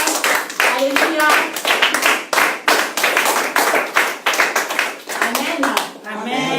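A church congregation claps loudly and rhythmically to acclaim the Lord, a dense, steady stream of close hand claps throughout, with voices mixed in underneath.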